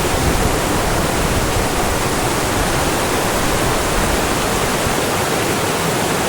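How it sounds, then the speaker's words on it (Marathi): Water gurgles and rushes through a knee-deep flooded rice paddy in Junnar during the monsoon, a steady, dense, close flow that never lets up, with no voices. "हा हे पाण्याचा खळखळाट"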